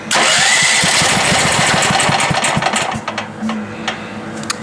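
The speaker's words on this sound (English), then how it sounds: "we'll get her fired up here" A Champion 41532 portable generator engine turns over with its choke off. A loud, steady mechanical churn with rapid regular pulses runs for about three seconds, then drops to scattered faint clicks.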